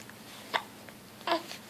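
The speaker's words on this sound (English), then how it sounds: "Got the hiccups?" Two soft baby hiccups, about three quarters of a second apart, close and quiet against a calm indoor background.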